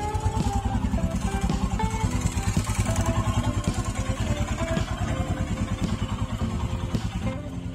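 An old Royal Enfield motorcycle engine runs steadily nearby in central Slovakia, its loud single-cylinder thump beating in a fast regular rhythm for the whole stretch without speech.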